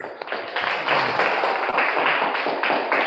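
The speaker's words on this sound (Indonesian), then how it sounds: "Nah, tepuk tangan buat Is." A school class claps for a student after she sings, with a short burst of brisk, fairly close hand clapping that fills the moment and carries no talk over it.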